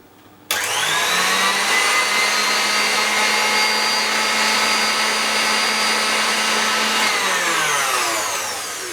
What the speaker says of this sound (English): add just a pinch of salt and whisk that in briefly